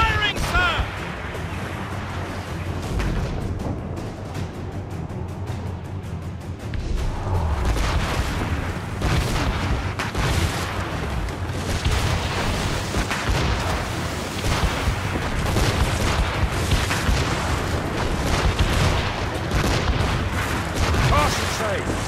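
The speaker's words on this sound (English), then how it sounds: "They're firing, sir!" Naval battle in the game Assassin's Creed Rogue, with ship cannons booming repeatedly in heavy volleys amid battle din, while voices shout orders over the fire.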